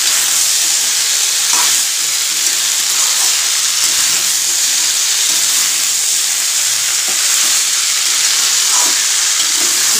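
Spices frying with salt and turmeric hiss in a continuous loud sizzle, with faint scraping stirs now and then, close up and uninterrupted.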